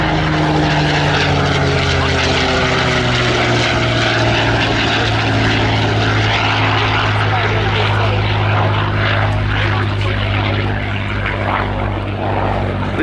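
A Spitfire's piston engine drones loud and steady overhead at the Cosford air show, a continuous propeller roar that holds throughout while a commentator talks over it.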